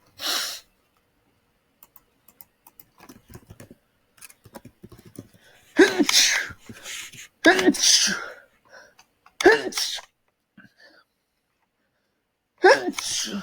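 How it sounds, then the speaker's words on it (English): A sudden sneeze bursts out, close and fairly loud, amid scattered small clicks and rustles, followed by a few short bursts of nearby talking. "Sorry, just had to sneeze a little bit."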